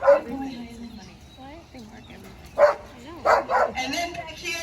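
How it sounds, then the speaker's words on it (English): Sled dogs in Skagway, Alaska whine and whimper in high, wavering cries, with short yips and barks bursting in toward the end, close by, while a person talks over them. "these are those wheel dogs"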